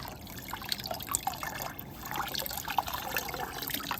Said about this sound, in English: doubling it on itself and gently squeezing the water out